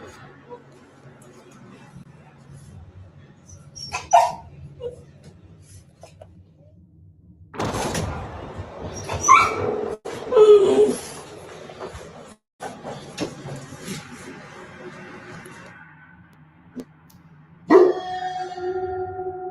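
Family dogs bark and yelp in short, sharp bursts, some loud and close, scattered across a tense stretch with other household noise and movement between them.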